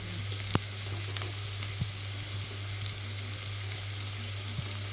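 Onions fry lightly in a pan for a country chicken gravy. A soft, even sizzle plays at moderate level with a low steady hum and a few faint clicks.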